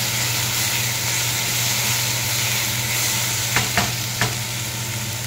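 Ground spices, salt and sugar are sautéed in a frying pan with a loud, constant sizzle over a low hum, and three quick sharp scrapes of a spatula come near the end.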